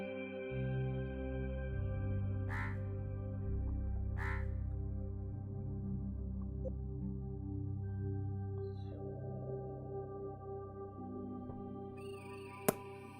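Crows caw in the video game Monument Valley: two short cawing calls near the start over a sustained, layered ambient music bed, with a sharp click near the end.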